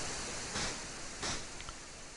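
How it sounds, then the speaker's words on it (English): Sea water washing in within a retro video game, a steady hiss of surf-like noise with two brief swells, close and fairly quiet, without talk. "It's quite impressive the water, the way the water comes in."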